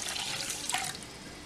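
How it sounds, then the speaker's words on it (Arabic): A cup of water pours into a pot holding a cup of sugar for syrup, a short, close splashing trickle with a brief stronger gush midway, no talking. "عندنا في حلة كوباية سكر، وهنضيف عليها كوباية مية"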